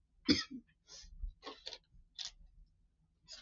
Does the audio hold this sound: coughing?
yes